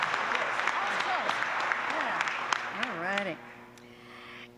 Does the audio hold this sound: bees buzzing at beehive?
no